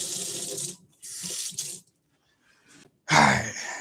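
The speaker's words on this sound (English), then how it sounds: "So I'm gonna go rinse off my spoon" A spoon rinsed under a running kitchen tap: bursts of flowing water start and stop, with a brief quiet gap, then a louder gush at the end, nearby.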